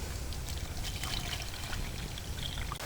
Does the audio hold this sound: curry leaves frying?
no